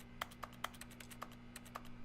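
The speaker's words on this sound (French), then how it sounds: "quand j'appuie avec ma souris pour valider quelque chose, bah, c'est un son de clavier" Quiet, dry clicks from the menu of The Stanley Parable that sound like computer keyboard keystrokes, about nine irregular taps in quick succession over a faint steady hum.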